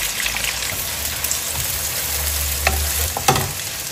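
Chopped onions frying in hot oil, a loud steady close sizzle with a couple of brief clinks near the end.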